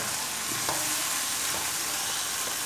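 Chickpea, potato and eggplant curry with garam masala and ground coriander and cumin is stirred in a sizzling pot, a constant close hiss with a couple of soft scraping strokes.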